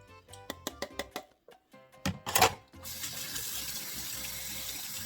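A kitchen tap runs to rinse canned navy beans, first some knocks and clatter of the can and beans, then a steady close gush of water pouring for the last few seconds.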